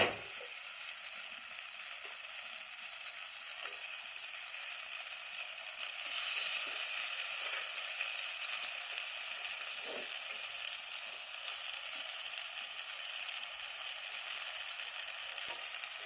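Chicken pieces with spices frying in a clay pot, a steady broadband sizzle holding evenly throughout with a few faint clicks, close and moderately quiet, no voices.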